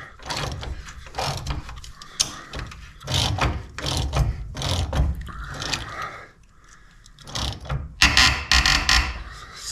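A ratchet wrench clicks rapidly in bursts as it turns a tight bolt while the body is removed from a VW Beetle, close and harsh with short pauses between strokes.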